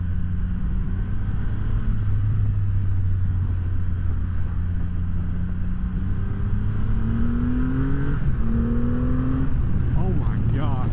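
A 2025 Triumph Rocket 3 GT Evel Knievel Edition motorcycle in sport mode pulls hard, its deep engine rumble climbing in pitch through repeated revs up and gear changes, loud and close under wind noise.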